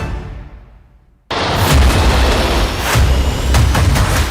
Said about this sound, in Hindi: तेल के 2 जहाजों को ओमान तट पर विस्फोट से उड़ाया गया।